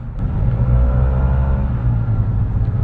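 Yamaha T-Max 530 maxi-scooter engine pulling steadily on an urban expressway, a continuous loud low rumble with a rising drone and no talk.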